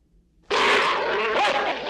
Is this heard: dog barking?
yes